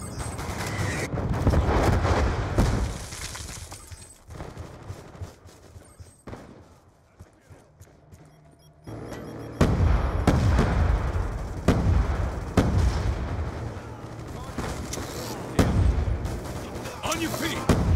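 A Hellstorm missile strike in Black Ops 2 on the Nuketown map, heard as loud booming explosions and gunfire bursts that come in waves, with game announcer voice lines over the action.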